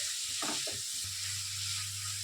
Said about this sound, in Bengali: সাথে কিমাটাও দিয়ে দিলাম। এটা চিকেন কিমা ছিল।